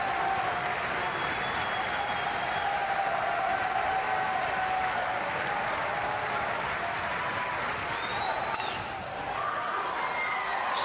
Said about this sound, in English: Rhythmic applause from the LSU fans, trying to help their ball club get out of a jam here in the second.